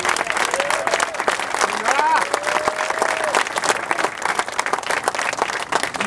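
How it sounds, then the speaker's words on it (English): Sustained applause from a crowd, dense steady clapping throughout, with a voice briefly audible underneath. "Let's give her a round of applause."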